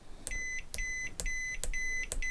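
A touch screen multimeter in buzzer mode detects a short circuit while checking components, giving a series of short, sharp electronic beeps, five evenly spaced pulses, each a bright, steady high tone, clear over a faint background hiss.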